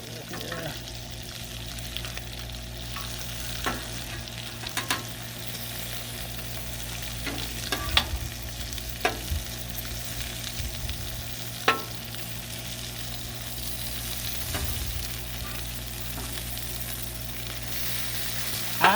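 Bacon and vegetables fry on a hot griddle with a steady, close sizzle and frequent sharp pops and splatters scattered throughout, no talking.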